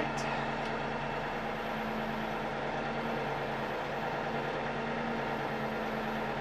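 A tractor engine running in low gear: a steady, droning hum with a firm low tone that holds unbroken and close throughout.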